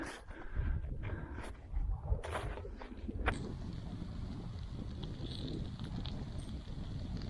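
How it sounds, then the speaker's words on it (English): Winter wind gusting outdoors on the Lofoten Islands with sleet, buffeting loudly at first, then a steady broadband rush of wind and sleet that continues without let-up. "Again, sleet and wind."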